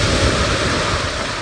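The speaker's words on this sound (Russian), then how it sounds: "есть вот такие отличные, вообще замечательные волны" Ocean waves break on a Seychelles island shore in a brief, close, continuous roar of surf with wind-like rushing noise.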